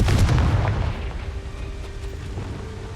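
Confringo spell in Hogwarts Legacy bursting in a heavy, booming explosion that opens loud and low, then trails off into rumbling debris and ambient game noise.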